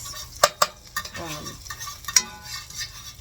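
Frozen mixed vegetables and peas stirred together in a pan: close, uneven scraping and clinking of a utensil, several sharp knocks among softer rustles, with a faint sizzle underneath and no talking.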